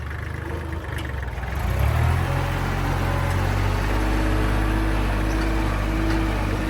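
A used Kubota L3408 tractor's diesel engine runs steadily close by, a low, even rumble that swells slightly about two seconds in, then holds a constant idle with no voices.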